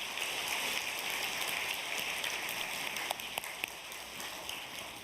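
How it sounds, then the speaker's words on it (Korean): Applause from a Korean church congregation thanking Sunday school teachers, heard as a steady, dense wash of many hands clapping at low volume, fairly distant, with a few sharper claps standing out near the end. "한번 우리 선생님들에게 수고의 박수를 한번 보내도록 하겠습니다."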